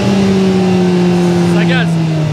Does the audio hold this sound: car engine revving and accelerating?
yes